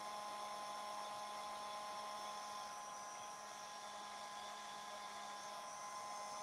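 A dryer force-drying a resin craft piece, a steady high-pitched motor whine with a constant airy hiss, unbroken and fairly faint throughout.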